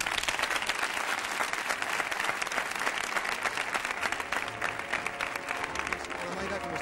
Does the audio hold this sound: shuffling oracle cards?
no